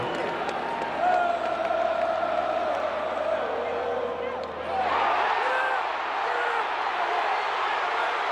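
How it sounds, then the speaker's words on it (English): A baseball stadium crowd roars for a first-inning World Series grand slam, a sustained wall of cheering that surges louder midway, with a voice talking over the noise. "You hear the crowd going crazy?"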